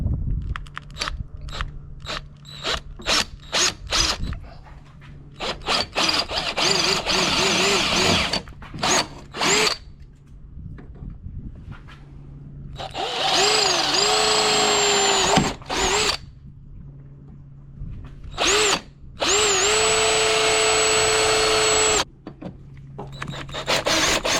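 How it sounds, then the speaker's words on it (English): A power drill whirs in repeated bursts, some short and stuttering, others long and steady, with its pitch rising and falling under load, loud and close, while drilling to mount an ARB awning on an Alu Cab rooftop tent. "I'm going to come over here, drill on this side"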